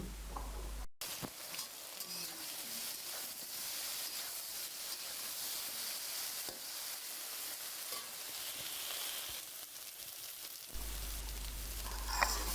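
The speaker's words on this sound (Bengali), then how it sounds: "তেলটা গরম হয়ে গেলে মেখে রাখা ঢ্যাঁড়সগুলো দিয়ে মিডিয়াম আছে ভেজে নেব কিছুক্ষণ" Okra fries in hot mustard oil in a wok with a steady, soft sizzle and hiss, an occasional stirring scrape, fairly quiet and continuous.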